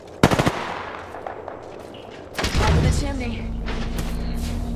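Enemy gunfire in the video game Apex Legends: a quick burst of loud automatic shots, then a heavier rattling volley with booming impacts that fades into a low rumble.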